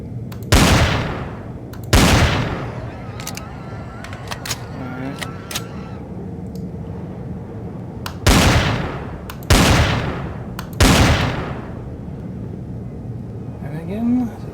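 Gunshots in the survival game Empyrion Galactic Survival, a pair of sharp loud blasts spaced apart, then a quieter stretch with soft game noises, followed by three more shots in quick succession, over a low steady hum.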